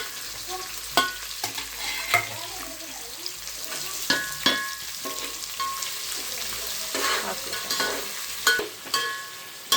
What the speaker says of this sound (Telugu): ఇక్కడ ఆనియన్ ఫ్రై అవుతుంది